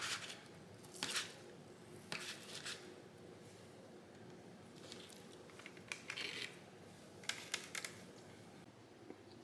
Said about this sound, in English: I'm gonna wash and cut up a couple of these tomatoes